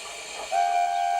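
Steam engines whistle at a railway junction, one long steady tone starting partway through and holding to the end over a dense rumbling background; no talk.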